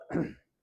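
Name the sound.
cough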